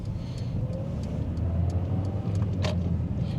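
Car driving on a Glasgow road and slowing for a junction, a steady low engine and road rumble with small ticking clicks from the cabin, heard from inside the vehicle.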